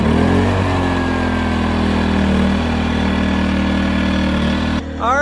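A small gasoline engine, started by pull cord, runs at a steady idle, loud and close, with a continuous droning hum for several seconds before a brief dip at the end.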